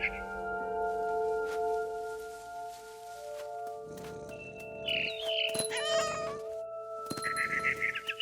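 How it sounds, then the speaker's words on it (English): A cat meows and caterwauls in the video game What Remains of Edith Finch, several short calls rising over a steady tonal game score with low ambient rumble, fairly close and clear. "I was a cat."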